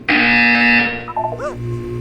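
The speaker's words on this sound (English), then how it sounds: "You will hear a buzzer." A loud electronic buzzer blares for under a second inside the Portal 2 video game, then cuts off into a brief warbling electronic tone and a low hum.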